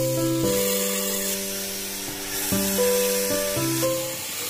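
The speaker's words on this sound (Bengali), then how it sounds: "এবার এর মধ্যে আমরা গ্রেট করা গাজরটা দিয়ে দেবো।" Grated red carrot frying in melted ghee inside a pressure cooker gives off a steady, close, hissing sizzle, with sustained musical tones layered underneath and no speech.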